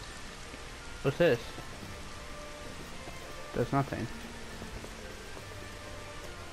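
Steady rain in the video game Final Fantasy XV makes a constant hiss throughout, with two short bursts of talking over it.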